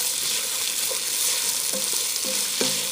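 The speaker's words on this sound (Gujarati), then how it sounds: "એને ફાઇન રીતે આપણે સ્ટર કરી નાખશું." Pigeon peas stirred in a hot pan for pilaf: a constant bright sizzle with soft scraping strokes of a spoon knocking lightly against the pan, close and alone.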